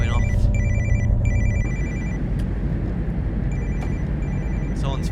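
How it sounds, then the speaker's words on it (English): A mobile phone ringtone chirps in repeated electronic bursts inside a train vestibule in a train-driving simulation, heard over a constant low rumble of the moving train, with the ringing pausing and resuming several times. "Someone's phone's going off in the vestibule."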